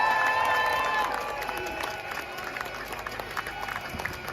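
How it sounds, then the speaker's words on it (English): An outdoor crowd at a London protest rally cheers for arriving RMT rail union marchers. Diffuse cheering and scattered whistles rise at first, then settle into a steady crowd murmur with claps and shouts. "let's give them a big cheer"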